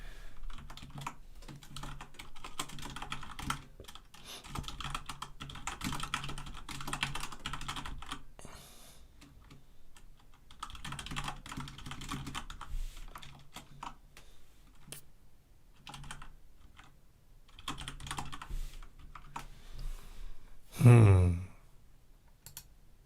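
Bursts of fast typing on a computer keyboard during a live street magic stream come and go for about twenty seconds, with brief pauses between runs, over a low background hum, then a single loud thump near the end.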